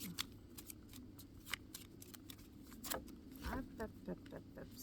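A deck of tarot cards is shuffled and cut by hand, with soft quick riffles, taps and sliding card sounds up close, quiet and irregular, ending in a brisk flurry of card flicks.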